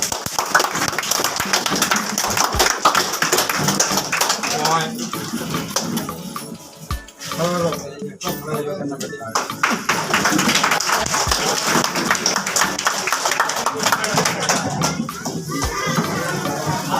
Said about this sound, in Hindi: उनका एक स्वागत तालियों से किया जाए